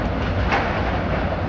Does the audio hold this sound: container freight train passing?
yes